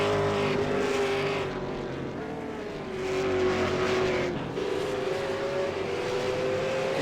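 V8 Supercar race cars lapping Oran Park, their heavy engines droning loud and steady, with pitch sweeping up and down as they pass and accelerate.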